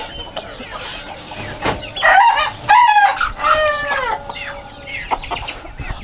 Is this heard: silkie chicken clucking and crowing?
yes